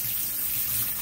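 Running water splashes steadily from a tap over a pan being rinsed after cleaning off burnt-on residue with polishing paste, a close, continuous wash of sound with no talk.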